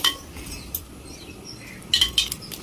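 Mirchi bajji batter being stirred in a bowl, a close, soft wet churning with a few sharper scraping clinks of the utensil against the bowl toward the end, with no voices.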